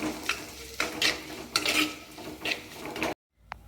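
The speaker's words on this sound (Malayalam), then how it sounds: "ഇത് നന്നായിട്ട് ഇളക്കി യോജിപ്പിച്ച് കൊടുക്കാം" Pumpkin curry being stirred and mixed in a pan, with repeated scraping strokes of a spoon against the metal at a steady rhythm over a soft sizzle, close and clear, then a brief pause and one last light tap.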